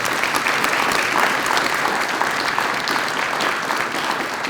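At a district community relations awards ceremony, a crowd gives honorees a sustained round of applause, with dense, even clapping from many people filling the room.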